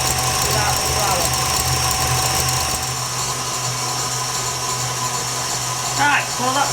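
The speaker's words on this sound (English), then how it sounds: "while that's whisking away" An electric mixer whisks gluten-free cake batter, a steady motor whir running continuously at close range with a few brief higher chirps near the end.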